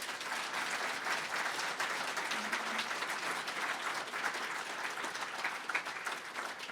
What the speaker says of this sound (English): So big round of applause to Jesse.